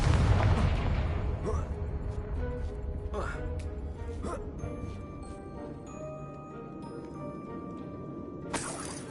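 The Confringo blasting spell in Hogwarts Legacy goes off as a loud, deep explosive boom that rumbles and fades over several seconds, followed by a fainter crackle and one more short burst near the end.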